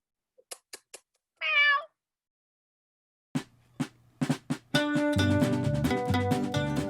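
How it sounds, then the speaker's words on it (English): A cat gives a single clear meow after a few sharp taps, followed by a burst of upbeat music. "Meow."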